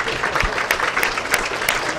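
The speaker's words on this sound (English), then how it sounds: "A round of applause." Applause breaks out at a women's professional bowling tournament during the stepladder finals, a steady patter of clapping from the crowd with a commentator speaking over it.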